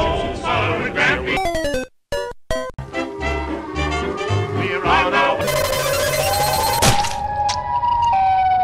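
Loud electronic sirens wail and warble, interrupted by brief cuts and thumps, then a long rising siren tone holds to the end, synthetic and game-like.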